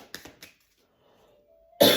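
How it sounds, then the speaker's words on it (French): A person gives two or three quick, close coughs at the start, followed by silence and then a sudden loud burst near the end. "Vous me refaites tousser les Gémeaux."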